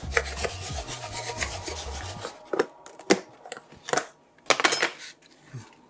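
Quartered zucchini shaken in a container of breading coating, a rattling, rubbing shuffle for a couple of seconds followed by scattered knocks and taps, close by.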